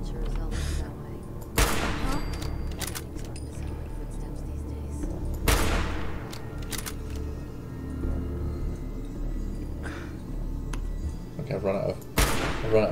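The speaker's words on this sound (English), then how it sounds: "There are, of course, several machine gun turrets." Machine gun turrets firing in Fallout 4: repeated loud bursts of gunfire and booms over a steady low rumble of game ambience, with sharp cracks recurring through the scene.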